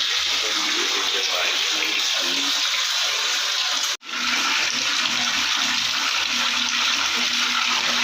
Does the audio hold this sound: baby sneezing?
no